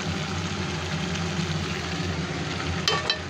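Hot oil left from frying shrimp is poured over potatoes for a Bengali shrimp and potato chorchori, then stirred, a steady close sizzle with soft scraping, and a brief clink near the end.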